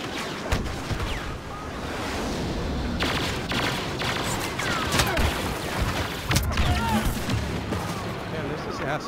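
Explosive blaster shots in Star Wars Battlefront's Walker Assault on Outpost Beta go off in scattered, booming volleys over a constant rumble of battle, with voices talking throughout.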